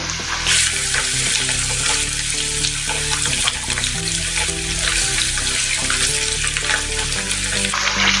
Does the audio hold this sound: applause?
no